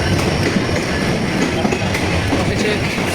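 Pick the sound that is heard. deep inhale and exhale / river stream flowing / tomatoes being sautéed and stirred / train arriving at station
train arriving at station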